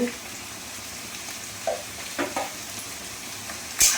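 Turmeric, chilli powder and cumin fry in a hot pan, a steady close sizzle with a few stirring scrapes and knocks, ending in a sharper clatter.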